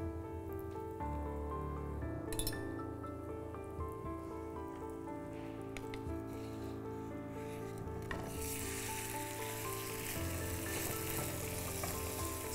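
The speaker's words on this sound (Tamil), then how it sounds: "இப்போ நம்ம இந்த சைடையும் குக் பண்ணிடலாம். இதுக்கு வந்து இன்னும் கொஞ்சம் எண்ணெய் ஊற்றிக்கிறோம்." A paneer steak sizzles and fries in oil in a pan, a continuous close crackle that grows brighter and louder after more oil is added, with no talking.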